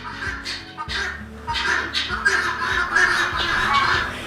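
Guinea fowl call in a harsh, repetitive chatter, a rapid stream of grating squawks from several birds close by.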